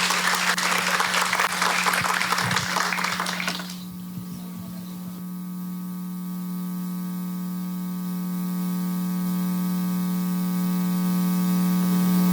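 An audience at a psychoanalysis congress in Brasília claps loudly for several seconds to welcome a speaker, then the applause stops abruptly, leaving a steady electrical hum and buzz from the sound system.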